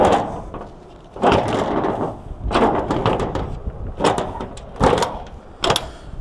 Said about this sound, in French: Et on ferme la porte